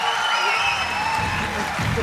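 Audience applause for director Tharun Moorthy at the Thudarum film success celebration with Mohanlal, steady clapping from a crowd lasting a couple of seconds, with faint voices and some tonal hum underneath.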